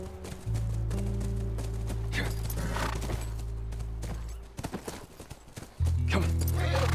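Horse in The Last of Us, heard as a low, steady hum with hoof clip-clop and a brief snort under faint background sound, then the sound drops away before returning strongly.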